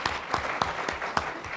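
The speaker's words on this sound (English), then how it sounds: "Let's give Lynn a round of applause" Sparse clapping from a small audience at a government business-opportunities event in North Carolina, a handful of distinct claps spaced out and fairly quiet.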